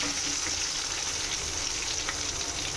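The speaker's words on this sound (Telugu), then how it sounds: "2-3 టేబుల్ ఆయిల్ వేసి పోపు దినుసులు, 2 ఎండుమిరపకాయలు, కరివేపాకు వేసానండి." Tempering spices, two dried red chillies and curry leaves fry in two to three tablespoons of hot oil in a pan, giving a constant, close, hissing sizzle with no talk.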